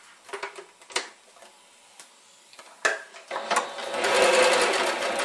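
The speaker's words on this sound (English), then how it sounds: "do a zigzag straight across on each one of them" A sewing machine stitches a zigzag across quilt fabric, starting with clicks and short bursts, then a steady whirring run that grows louder toward the end.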